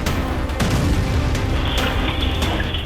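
A rocket launched from Lebanon explodes outside a building, caught on CCTV: a loud, sustained boom with deep rumbling low end and crackling debris, filling the whole stretch without voices.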